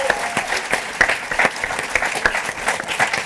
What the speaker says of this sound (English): Can we give a round of applause?